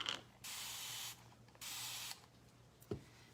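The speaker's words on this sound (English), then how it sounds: "I am gonna spray my brush here" A spray bottle mists a paintbrush with two quick hissing bursts, each about half a second long, quiet and close, followed by a small knock.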